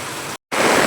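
Heavy monsoon rain pours down as water floods a house's courtyard, a loud, steady broadband roar that cuts out briefly before returning even stronger.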